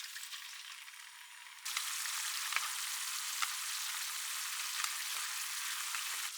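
Onions and dashi simmering and sizzling in a pan for katsudon, a steady bright bubbling hiss that jumps louder partway through as the liquid goes in, with faint scattered pops.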